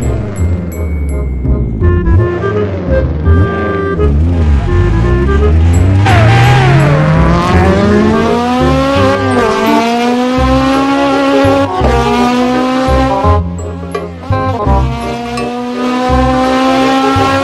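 A Honda Civic races in a video game, its engine loud and close, revving up through rising gear pulls with brief dips at shifts and occasional tire squeal, continuous throughout.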